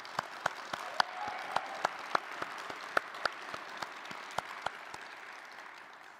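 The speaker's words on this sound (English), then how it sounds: "please acknowledge many of the elders by joining us in a round of applause for them" Scattered applause from a small audience at a Métis Two-Spirit 2SLGBTQIA+ gathering, honouring the elders: sparse, distinct hand claps at a moderate distance, fairly quiet and steady with no talking.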